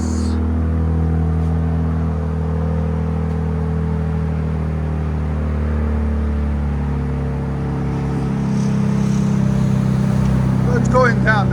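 A 2025 RAM RHO with a 3.0L Hurricane I6 idles at cold start through its exhaust, a deep, close, steady drone that shifts slightly in pitch, with a voice talking over it.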